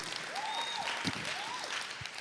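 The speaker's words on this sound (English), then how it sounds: "Please give yourselves a big round of applause." Steady applause from a crowd at a high school Christmas concert fills the whole moment, even and sustained, with a faint whistle-like tone rising above it.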